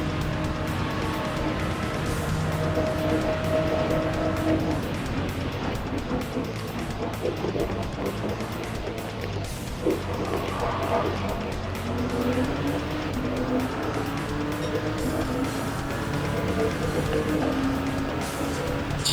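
A racing car on a track in a video game drones continuously, its engine pitch rising and falling through gear changes and corners, with occasional tire noise over roughly twenty seconds.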